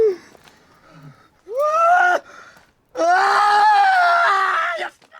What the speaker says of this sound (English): the echoes of screaming and torturous pain seem to surround him